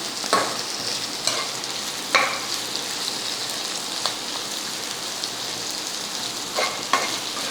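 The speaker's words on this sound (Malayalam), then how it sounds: "ഇത് അത്യാവശ്യം നല്ലോണം വഴലണം, നന്നായിട്ട് വഴലണം. അതായത് ആ ഉള്ളി വേവണം." Shallots sauté in a pan for a Kerala-style beef roast, giving a soft, steady sizzle with a few scattered spatula scrapes. The sound is close but fairly quiet, and no one speaks.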